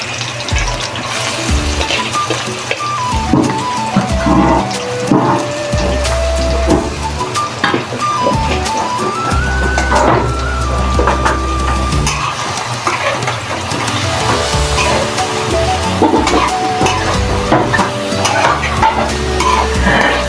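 Onions frying in a pan for a beef spleen bhuna, with continuous sizzling and crackling plus scraping stirs at a steady, close, moderately loud level and no voices.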